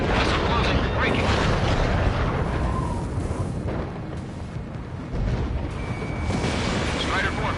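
A missile explodes in the jet combat video game Ace Combat 7 with a loud, broad roaring blast that rumbles on amid dense engine and battle noise, dipping briefly before swelling again.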